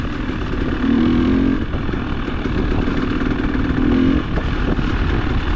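A Honda and a Husky motorcycle ride along a cold, wet byway near Mold, their engines droning steadily and close, swelling twice into louder revving passes.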